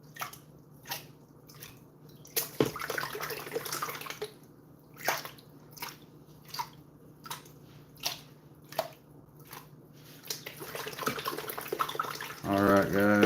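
Water runs and splashes softly at close range during a gold panning cleanup, coming in intermittent bursts with drips and squishes, quiet throughout, with a voice near the end.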